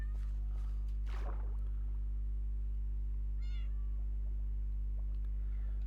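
A Minecraft cat gives one clear, fairly close meow, then a faint second call a little later, over a steady low electrical hum with no talking.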